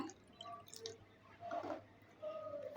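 Room-temperature water trickles and splashes into a salted semolina mixture for barfi, a soft, faint liquid sound in short bursts with quiet pauses between.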